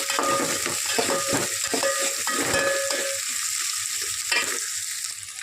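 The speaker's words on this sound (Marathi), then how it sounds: "सगळा कांदा छान भाजून घ्यायचा कांदा छान परतून घ्यायचा" Onion sautés with spices in a pan for black rajma rice, a steady sizzle cut by repeated rhythmic scrapes of a spoon stirring against the pan, close and fairly loud without talk.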